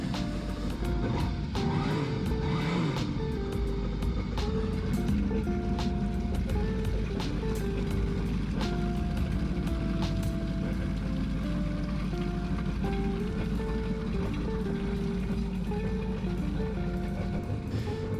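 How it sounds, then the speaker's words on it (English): 2004 Yamaha FX HO jet ski engine running on a freshwater flush, a continuous rumbling drone with rising and falling revs throughout, steady and fairly loud. "I kind of rev up the engine sometimes to kind of force some of that water through the system"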